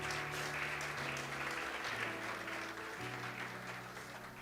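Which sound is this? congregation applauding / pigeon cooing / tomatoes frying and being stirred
congregation applauding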